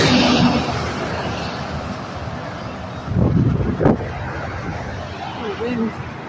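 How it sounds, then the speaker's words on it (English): Wind buffets a microphone while traveling near Richmond, Virginia, on the interstate, producing a steady broadband rumble with louder gusts around the middle and end, mixed with faint voices and road noise. "Oh, wind."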